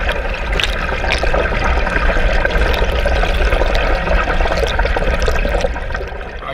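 Water churns and splashes continuously from a swimmer's butterfly kicks during a private lesson in a pool, a dense, steady wash of noise with no pauses.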